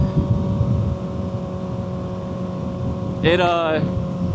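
Motorcycle fitted with an M4 slip-on exhaust, engine droning steadily up close on an early morning ride, with a brief rising whine of revs near the end.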